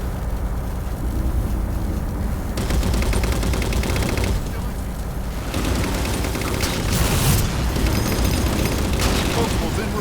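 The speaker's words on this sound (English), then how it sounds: "Firing on hostile." Sustained Halo 4 gunfire over a steady war-zone rumble, dense and continuous throughout, with heavier bursts later on and radio-style chatter mixed in.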